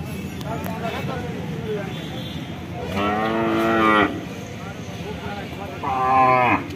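Cattle at a busy pre-Eid cattle market at Jashore 7 Mile give two long, loud moos a few seconds apart, each lasting about a second, over steady crowd chatter and background bustle.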